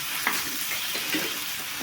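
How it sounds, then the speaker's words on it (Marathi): Tomato and bell pepper roast on a hot griddle with a steady, close sizzle and faint crackling pops throughout. "तव्यावर टॉमॅटो आणि भोपळा मिरची पैकी भाजून घ्यायची"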